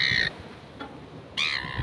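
Birds gather around a fishing spot in New Zealand, two loud crow-like caws close by with a fainter call between them.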